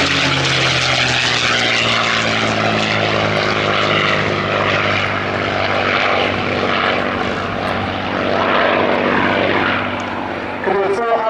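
A P-51D Mustang named Tall In The Saddle flies at the Dunsfold Airshow 2016, its piston engine and propeller giving a loud, continuous droning growl with steady harmonics that swell slightly near the end.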